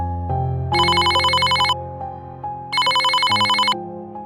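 A telephone rings while a call is placed to a mother: a loud electronic ringtone plays in two bursts separated by a pause, over a low steady tone.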